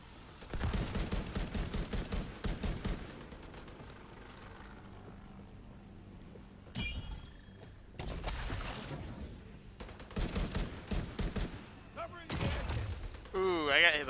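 Bursts of automatic gunfire in The Division 2 as players shoot down drones, clustered volleys between quieter gaps, with players talking over the shooting.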